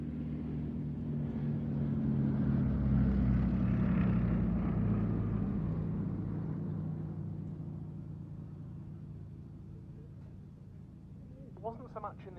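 A Westland Lysander propeller aircraft flies past at a flying day at Duxford, its engine drone swelling to a peak and then fading into the distance, with a faint brief sound near the end.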